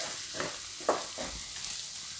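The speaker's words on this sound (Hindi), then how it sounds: "मसाला डाल के हमें इसे थोड़ी देर मिक्स करना है तेल में" Masala for paneer bhurji sizzles in hot oil at a constant hiss while a few scraping stirring strokes pass through it, with no one speaking.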